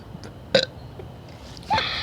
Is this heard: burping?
yes